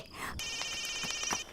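A telephone rings in a home kitchen, its bright electronic tone cutting in after a brief moment and holding steady, with someone talking faintly underneath.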